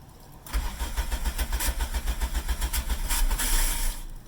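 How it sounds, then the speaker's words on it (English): A Toyota car engine cranks with a rapid pulsing starter rhythm for several seconds after a fuel filter replacement, struggling while fuel primes, then catches and runs, heard close and fairly loud with no talk. "it might struggle to start up because it needs to send fuel into the car"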